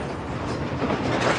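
A train rolls along an old railway line still in service in southern Africa, giving a continuous loud, dense rumble with steady track noise throughout and no voices.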